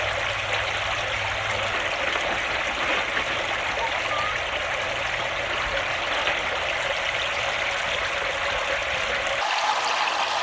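Small waterfall splashing into a backyard koi fish pond, a steady continuous trickle and rush of water close by, with a faint low hum under it that cuts out near the end.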